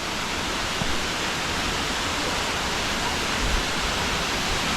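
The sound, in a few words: waterfall in Costa Rica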